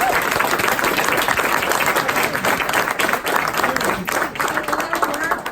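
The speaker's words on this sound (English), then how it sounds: "Give him an applause" A crowd claps hard and continuously at a gathering, making a thick, even wash of applause throughout. Voices talk underneath the clapping.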